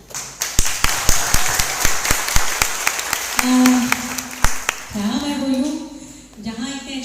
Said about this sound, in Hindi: ये जो तालियां बज रही हैं हमारे लिए